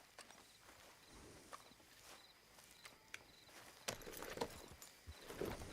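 Horse hooves clopping in Red Dead Redemption 2, faint, irregular footfalls on a quiet game soundscape, growing slightly louder and busier toward the end.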